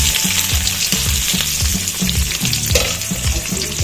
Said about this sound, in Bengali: তো এদিকে ডিমগুলোকে আমি ভেজে নিচ্ছি।